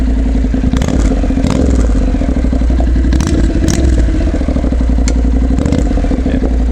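A Honda CTX700 motorcycle fitted with a Radiant aftermarket exhaust idles loudly up close, giving a steady low, throbbing rumble broken by light clatter and scraping noises, with no talking.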